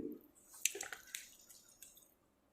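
Water poured into a test tube during a school chemistry demonstration, heard as soft, faint trickles and a few bright splashy drips over a couple of seconds, quiet and close with no talking.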